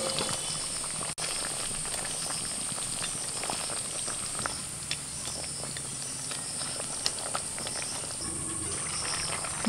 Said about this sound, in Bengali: মশলাটা ফুটে গেছে, ভাজা মাছগুলো দিয়ে দিচ্ছি